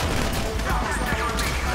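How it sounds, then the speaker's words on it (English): Gunfire in Grand Theft Auto V, a dense, loud burst of overlapping shots and crashes filling the brief moment with no pause. "So I guess we're shooting our way out of here!"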